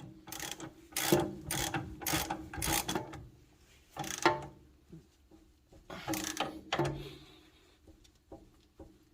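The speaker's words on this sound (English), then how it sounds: "we're gonna torque all these nuts and bolts right after" A hand ratchet clicks in several quick bursts, tightening the nuts and bolts on a Honda Prelude CV axle install, close up with short pauses between each round of strokes and no talking.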